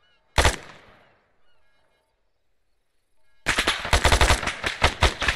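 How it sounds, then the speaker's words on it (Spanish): Machine-gun fire in the ArmA 3 military game, a loud burst at the start fading out, then after a pause a sustained stretch of rapid, heavy automatic firing close up. "Encima de ti disparo, ¿vale?"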